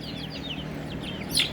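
Backyard chickens kept at home cluck and chirp in short, repeated calls close by, with a louder squawk near the end over a low steady background hum.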